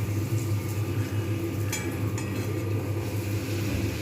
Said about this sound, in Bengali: লুচি ভাজা হচ্ছে